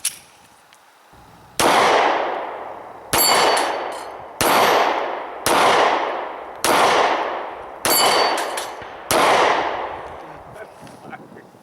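A Ruger LC9 compact 9mm pistol fires seven shots at a target, each a sharp, loud crack with a ringing decay, spaced about a second apart after a brief quiet start.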